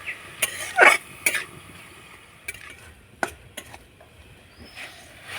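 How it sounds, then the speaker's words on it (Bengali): Jaggery filling for phorok pitha stirred with a little water in a pan, heard as a few faint, intermittent scraping and stirring strokes with quiet gaps between them. "এবার নাড়াচাড়া করে পুটটা তৈরি করে নেব"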